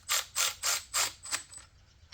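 A ratchet wrench clicks in six quick, evenly spaced bursts, fading toward the end, while bolts are snugged up on a rusty Ford F250 Camper Special truck.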